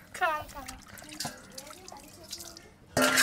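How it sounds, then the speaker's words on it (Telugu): Water splashes and drips in a home kitchen under steady conversation, with a louder gush of pouring water bursting in near the end. "వద్దు నీళ్ళు పోసింది"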